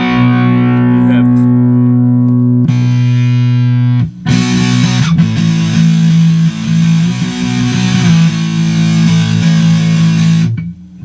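Loud electric guitar chords played through a Vox VT20+ amp's organic distortion setting, fuzzy and saturated, sustained notes ringing out with a few changes and brief breaks.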